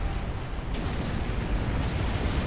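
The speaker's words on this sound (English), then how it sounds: "I got caught in that explosion." Dense rumbling blasts of explosions in the space game Star Trek Online, a continuous heavy roar with no distinct individual booms and no talk.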